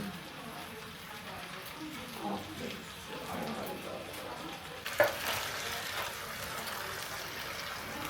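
Tomato paste sauce with tomato juice bubbles and sizzles in a pot on a home stove as it is stirred. The soft, continuous frying hiss is heard close up, with a brief clink midway and talking running underneath.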